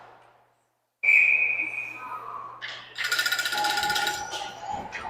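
Sharp referee's whistle blast at an ice hockey game, loud and sustained for over a second, followed by arena crowd noise and skate and stick clatter.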